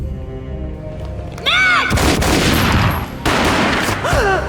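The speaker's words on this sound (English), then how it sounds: "A gunshot boomed and she fell down in slow motion." Gunfire in the video game Max Payne: two heavy, booming shot bursts about two seconds apart, loud and close, with swooping tonal sounds running around them.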